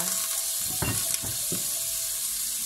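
Onion sizzles in olive oil and butter in a pan for chicken tinola, with a steady crackling fry and a few brief stirring scrapes, close and alone.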